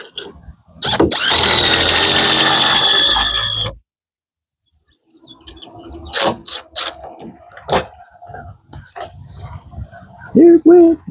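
A power drill whines in a long, loud burst while driving screws into a roof board for a gable roof on an 8x8 tiny house, then after a pause come scattered knocks, clatter and short bursts of work noise.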